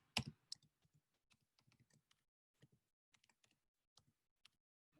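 Quiet, sparse keystrokes on a computer keyboard as a password is typed, irregular single clicks spread over several seconds, with one louder clack at the start.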